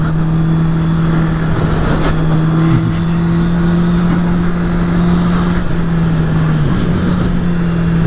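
Honda Hornet 650 four-cylinder motorcycle engine running steadily at high revs, a loud, close, sustained drone with a slight dip and recovery in pitch near the end, no voices.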